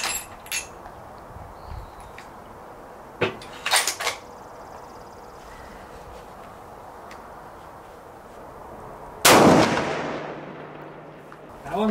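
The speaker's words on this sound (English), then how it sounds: "very first group Dave shot out of this gun at all" A Ruger RPR rifle chambered in 300 PRC fires: a few sharp reports early, then one loud, close blast with a rolling echo near the end, over quiet outdoor background.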